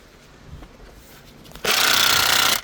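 A Milwaukee impact wrench works on transmission bolts, cutting in as a loud, dense, rattling burst for about one second after a stretch of quiet shop background.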